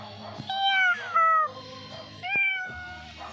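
A cat meows in a video game, several distinct, drawn-out meows with rising and falling pitch, clear and close, spaced by short pauses.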